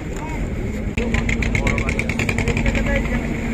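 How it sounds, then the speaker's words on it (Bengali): A river ferry boat's engine heading toward Mayapur runs with a steady, throbbing chug that kicks up louder after a brief dip, while a person talks over it. "ছেড়ে দিয়েছে আমাদের নৌকাটা"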